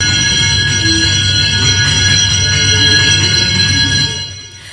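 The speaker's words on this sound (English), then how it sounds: "that's the sound of a bell going off in Parliament calling MPs to come to the floor for" Electric bell in Parliament summoning MPs to the floor, a continuous loud ringing buzz with steady metallic overtones that holds for about four seconds and then cuts off abruptly.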